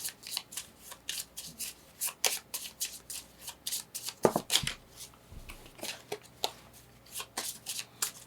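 Playing cards being shuffled by hand during a solo game of the Evergreen board game, a run of crisp riffling and snapping bursts repeating steadily at close range with no talk.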